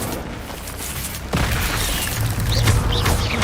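Incendio fire spell cast in the video game Hogwarts Legacy, a sudden whooshing burst that flares up partway through, then a continuing roaring crackle with small pops, fairly loud.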